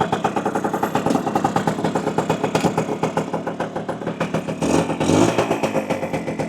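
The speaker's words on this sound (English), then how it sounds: "Fires up really nicely, very tight engine." A freshly restored 1965 Lambretta Li Series 3 scooter with a Mugello 200 kit revs loudly and steadily up close, its rapid rattling beat swelling into a deeper surge near the end.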